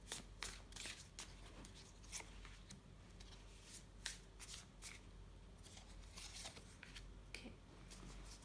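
Tarot cards being handled and shuffled nearby, a steady run of soft riffling and sliding with repeated brisk flicks, fairly quiet and heard without talk.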